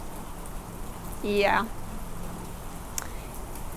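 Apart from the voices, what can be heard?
rain falling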